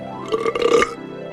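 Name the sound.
cartoon dragon burping loudly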